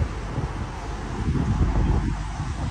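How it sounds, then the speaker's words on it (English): Strong wind buffets the microphone with a continuous low roar and rumble, gusting slightly, with no voices. "It's so fucking windy"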